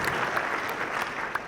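Audience applause at a payment industry panel discussion, a steady dense wash of clapping throughout the short stretch, moderately loud and without talk.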